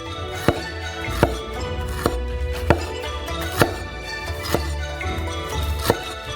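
Sharp knife strokes slice fresh peeled ginger thinly on a board, about seven evenly spaced strokes at a steady pace, close and distinct, with a low background hum.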